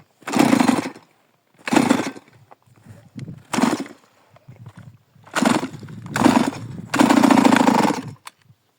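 A STIHL MS180 chainsaw cuts through a large willow trunk in loud, close bursts. About six revving cuts, each lasting under a second, are separated by short pauses of idling or quiet.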